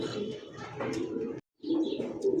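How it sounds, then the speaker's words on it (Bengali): A white-and-black pair of Lahori pigeons coos softly at close range in low, throaty rolls, broken by one brief silent gap before the cooing resumes. "হোয়াইট অ্যান্ড ব্ল্যাক একজোড়া লাহোরি কবুতর"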